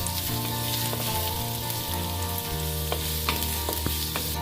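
Mushrooms frying in a heated pan for a barbecue-sauce recipe give a steady close sizzle that runs unbroken, with faint scraping and stirring on top and no talking.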